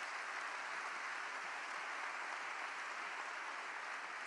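Audience applauding through a political speech, a steady unbroken wash of clapping that holds level and fairly loud from start to finish, with no distinct voices.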